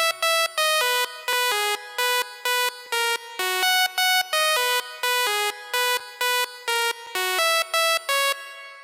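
Bright, buzzy Sylenth1 lead synth patch recreating a dance track's riff, playing loud staccato chord stabs in a bouncy repeating rhythm, alone and close with no voices.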